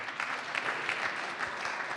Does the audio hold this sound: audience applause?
yes